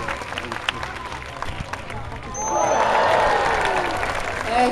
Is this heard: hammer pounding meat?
no